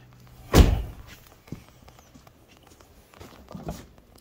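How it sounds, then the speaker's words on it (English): Chevy Cobalt trunk latch releasing, a single sharp, close thunk followed by a few faint clicks and soft knocks as the lid frees, then quiet. "And that opens your trunk."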